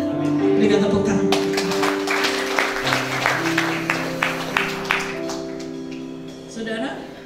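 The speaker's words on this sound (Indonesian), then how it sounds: "Berikan tepuk tangan." A church congregation breaks into scattered clapping over sustained music, the claps growing sparse and uneven before fading.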